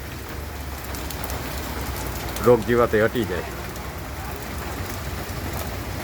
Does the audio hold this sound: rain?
yes